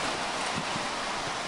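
Steady broadband wind rushes and rustles past a window during a summer downpour and squall at a country dacha, sheltered somewhat by nearby houses, a constant hiss with faint low thumps and no voices.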